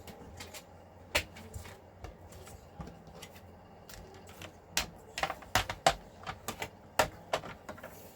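Scissors snip through paper card stock to cut a half-inch strip, a sparse series of sharp, close clicks and crunches that quicken toward the end, with quiet gaps between cuts and no talking.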